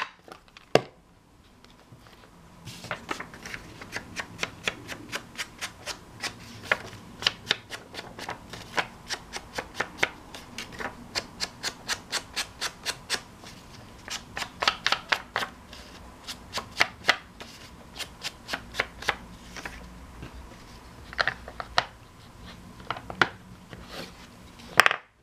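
The edges of a paper envelope are distressed for a junk journal, producing close, dry scraping and rasping strokes in quick irregular bursts, with brief crisp taps between.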